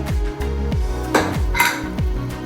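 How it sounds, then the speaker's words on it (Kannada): A pressure cooker lid being opened after two whistles on a pot of raw field beans for a sambar-style curry, with repeated metallic clanks and a ringing ping of the lid against the pot, close and alone. "ಇವಾಗ ಕುಕ್ಕರ್ ಓಪನ್ ಮಾಡ್ಕೋತಾ ಇದ್ದೀನಿ"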